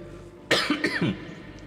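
A person coughs sharply a few times in quick succession, close up, followed by a short throat-clearing rasp.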